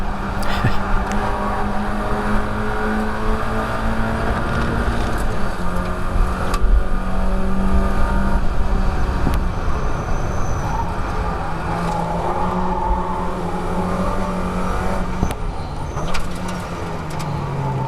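Mazda MX5 race car at Croft circuit pulling hard at full throttle through a fast kink, a loud, steady engine drone with rising pitch from on board, gear changes faintly breaking the roar as it nears braking.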